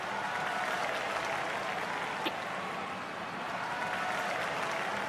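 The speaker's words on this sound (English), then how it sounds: "That is one huge crowd." Large arena crowd in the wrestling game WWE 2K25 roars in a steady, dense wash of cheering and clapping for about five seconds, loud and even with no talk over it.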